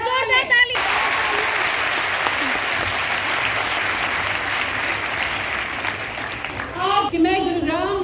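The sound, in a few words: loud applause from youth audience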